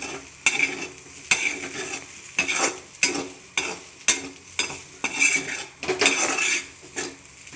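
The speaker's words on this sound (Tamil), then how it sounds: "இப்போ இதை வந்து கிண்டி விட்டுலாம்." A spoon stirs a Tamil-style potato poriyal stir-fry in a metal pan, with repeated close clanks and scrapes falling roughly every half second to second and a faint sizzle underneath, no voices.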